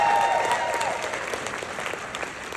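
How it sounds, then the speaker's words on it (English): Applause from an audience at a general session of a convention, steady dense clapping throughout at a moderate distance, with a faint tone sweeping early on. "Let's give them a big round of applause,"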